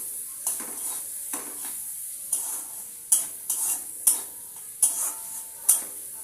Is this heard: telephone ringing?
no